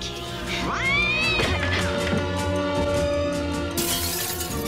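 A cat gives a loud, drawn-out meow with a sliding pitch, close and clear, followed by a sharper crash-like burst near the end.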